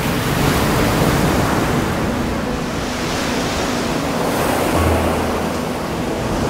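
Steady roar of 1.8-metre ocean surf at Duke Point, with waves crashing and washing continuously, loud and broadband, with some wind rumble on the microphone.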